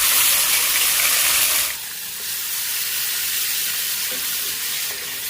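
Ground spice paste hits hot oil in a pan with cumin for Bengali hilsa curry with potatoes, a loud bright sizzle and hiss that drops slightly, then settles into a steady frying crackle.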